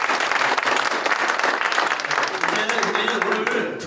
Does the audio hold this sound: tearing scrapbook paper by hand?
no